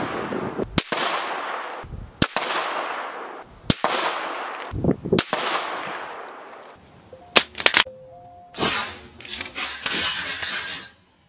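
Rifle shots fired at a target 100 yards away during a scope zero test: five sharp loud cracks spaced a second or two apart, each with a short echoing tail, followed by clicks and shuffling handling noise.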